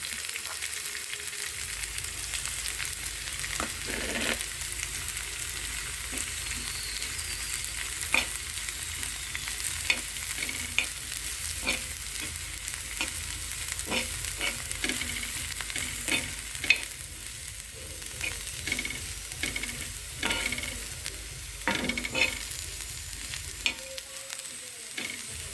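Peas roasting in a pan with ground masala, stirred by hand: a steady soft sizzle under repeated scraping strokes of a spoon, close and fairly quiet, no talking.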